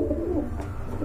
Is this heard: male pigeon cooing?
yes